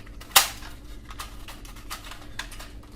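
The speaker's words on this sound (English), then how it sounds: "First of all, I load this pistol." Sharp mechanical snap from loading a realistic toy pistol, one loud click followed by several fainter clicks and rattles, nearby with no voices.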